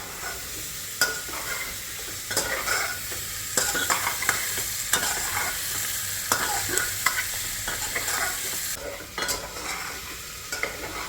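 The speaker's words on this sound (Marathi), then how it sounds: "बटाटा आणि कांदा छान परतून घेऊया आपण आता।" Potato and onion frying in a pan for soya chunk dal khichdi, a continuous sizzle broken by regular spatula stirs and scrapes against the pan, close and steady with no speech.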